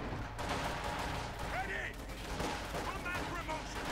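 Machine gun fire from a Panther tank rattles amid battle noise in the World War II strategy game Company of Heroes 2, as continuous bursts of gunfire and explosions run under a commentator's voice.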